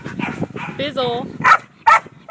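Several agility and show dogs bark at a ranch in sharp, separate yelps late in the clip, while people talk over the first half.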